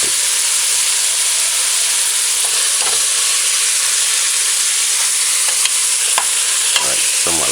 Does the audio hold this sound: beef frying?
yes